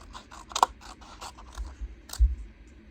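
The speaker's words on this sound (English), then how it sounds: "So I'll just cut a couple of these out so you can see." Scissors snip through stamped cardstock in a few sharp, close cuts with faint rustling of paper between them, the strongest snips coming near the start and again toward the end.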